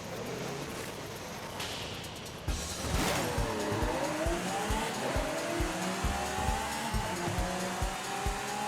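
Cars launch in a Forza Horizon 5 drag race: tires squeal at the start, then engines roar and climb in pitch through repeated gear changes, loud and steady to the end with no voices.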